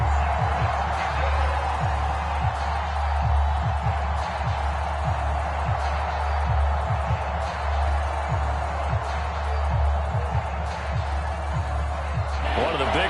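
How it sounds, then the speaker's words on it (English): A packed stadium crowd at an NFL Wild Card game between the Falcons and 49ers roars steadily ahead of a big third down, a continuous dense rumble with someone commentating over it. "the crowd getting into it as we come up on a big 3rd down"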